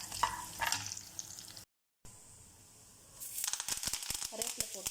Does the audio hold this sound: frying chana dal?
yes